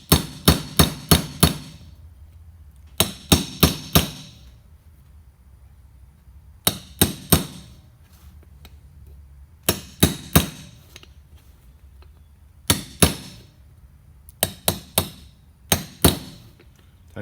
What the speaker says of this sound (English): You're best off using a big heavy hammer like that.